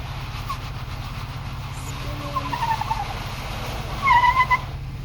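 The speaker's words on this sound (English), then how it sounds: "he was consistent on that gas, and so he was able to just keep spinning, keep those tires spinning" A Jeep on a wet Sand Hollow off-road trail holds steady throttle, its engine droning loudly while tires spin and squeal, rising in intensity toward the end.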